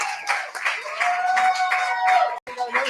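Brief applause from a small audience in a pizza pub, scattered claps mixed with crowd voices, fairly close and lasting only a few seconds.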